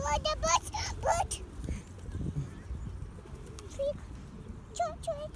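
Birds calling at a lagoon park, short cooing and chirping phrases in bursts near the start and again toward the end, over a steady outdoor rumble with people talking in the background.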